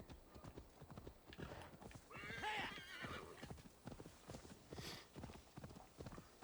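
Horse hooves pound in a quick, even gallop while riding in the video game Assassin's Creed Valhalla, close and continuous, with a whinny partway through.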